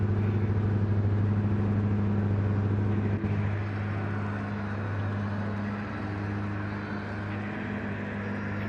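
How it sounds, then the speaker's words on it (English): A Chevrolet Corvette engine in a racing video game, at Bathurst, drones steadily at a mid pitch, holding a constant note with a slight dip partway through, loud and close. "Chevrolet Corvette having a distinct sound there"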